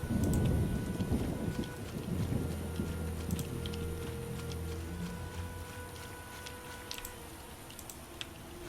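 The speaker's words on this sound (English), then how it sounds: "a storm is approaching" Thunderstorm in The Witcher game: a low thunder rumble fades out over the first few seconds, followed by faint, steady rain hiss with scattered small crackles.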